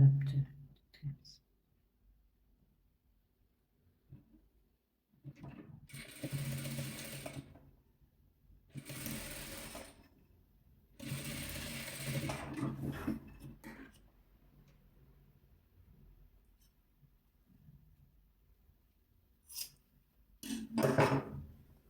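Sewing machine stitching red fabric pieces for a patchwork quilt, running in three loud bursts of a couple of seconds each with short pauses, then a final burst near the end; quiet handling sounds between.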